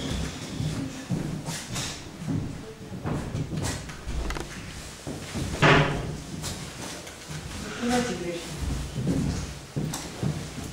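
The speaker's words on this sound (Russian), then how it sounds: "Надо дверь закрыть." An indoor door being closed, with scattered knocks and a solid thump among shuffling and handling noise, while faint voices carry on in the background.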